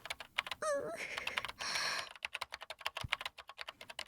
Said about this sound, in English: the sound of fingers hitting keys